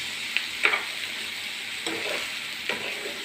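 Tomatoes and capsicum frying over a low flame make a steady soft sizzle, broken by a few brief stirring scrapes in the pan, with no one talking.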